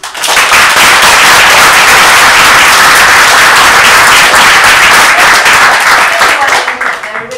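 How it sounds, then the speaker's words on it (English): A theatre audience gives a sustained round of applause for performers at a climate change theatre event, loud and dense clapping that swells quickly and carries on steadily for several seconds before tapering slightly. "should we give these guys a round of applause first?"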